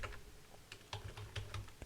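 Keystrokes of code being typed on a computer keyboard, a steady run of quiet clicks over a low hum, alone with no talk.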